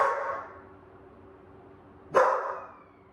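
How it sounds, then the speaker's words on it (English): A dog barks twice: a soft bark at the start fades out, then after a quiet pause a sharper, louder bark rings out near the end, indoors and fairly close, with no talking. "excuse me, that's my dog Cherry."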